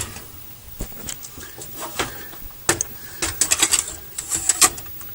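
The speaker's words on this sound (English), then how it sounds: "So this is one of the videotapes, and it would go in like this." A half-inch videotape on a coaxial reel is loaded into a tape machine, giving a run of close, irregular plastic clicks, knocks and scrapes. The handling gets busier and louder toward the end, and there is no speech.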